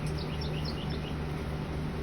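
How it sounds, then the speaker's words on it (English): Birds singing outdoors in a backyard where a dog is digging: faint, distant high chirps repeat through a steady background hiss, with no talk. "She hears some birds out there."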